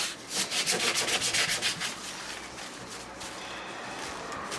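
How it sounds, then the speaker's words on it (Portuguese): Sandpaper is rubbed inside a cardboard Pringles can for a craft project, making a rapid run of scratchy strokes that turns into a steadier, softer, hollow-sounding rasp. "Vou lixar aí por dentro."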